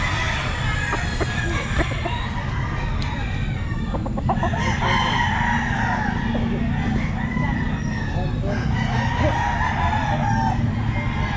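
A rooster crows amid a busy outdoor pet market in the Philippines, the call carrying over a constant loud crowd rumble with other fowl clucking faintly in the background.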